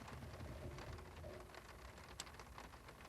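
Steady rain falls in a scene from the horror film Nope, a dense continuous hiss of drops on surfaces with one brief sharper tick, faint and even throughout.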